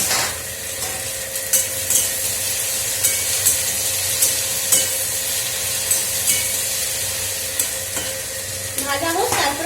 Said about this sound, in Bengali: এই যে ভিন্ডি দিয়েছি, বেশ ভাজা ভাজা হয়ে যাবে